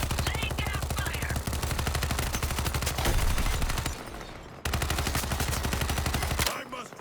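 Rapid machine gun fire from a video game rattles in a steady, regular stream of shots, briefly pausing before resuming at the same close, loud pace.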